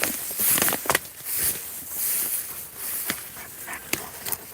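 Several pups move through dry, swampy woods, their paws pattering over the ground along with snuffling, panting and a few brief whimpers, all close by and with no one talking.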